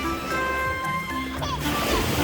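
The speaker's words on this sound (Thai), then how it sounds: "คลื่นมันแรงไปนิดนึง" Strong ocean waves sloshing and washing in at a beach, a near continuous rush of surf with a louder surge near the end, while people talk over it.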